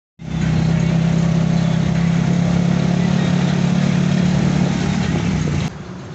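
Several motorbikes rumble together at close range, a steady loud engine drone with a strong low hum holding for about five seconds before easing off near the end.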